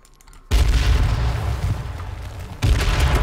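A grenade explosion in a video game, a loud sudden boom that cuts in and holds as a rumbling blast, then a second heavy burst hits near the end.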